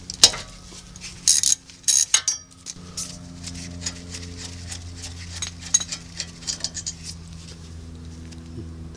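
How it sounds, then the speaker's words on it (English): A ratchet loosens the 14 mm lower brake caliper slide pin bolt on a 2011 Mazda CX-9 rear brake: a few sharp metallic clicks, then a run of quick ratcheting clicks, close and clear with a faint background hum. "The next thing we need to do is just loosen and remove this lower caliper slide pin bolt,"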